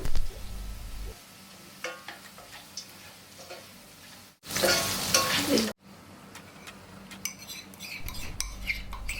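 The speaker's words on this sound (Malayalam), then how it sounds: "ക്യാരറ്റും ബീൻസും വെന്ത് കഴിയുമ്പോൾ റൈസിൻസ് ആൻഡ് കാഷ്യൂനട്ട് ഇട്ട് കൊടുക്കുക." Carrots, beans, raisins and cashew nuts fry with spices in a pan, a steady sizzle with spoon stirring and scraping clatter, a loud burst of hissing midway, then quieter frying.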